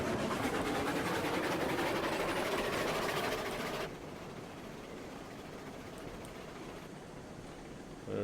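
Steam locomotive running in RailRoads Online, a steady loud rumbling chuff that drops to a quieter continuous drone partway through, with no talking.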